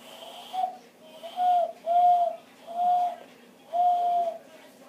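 A person whistles through the breath in imitation of a bird call, a rising-and-falling coo-like note repeated five times in a steady rhythm, fairly close and clear.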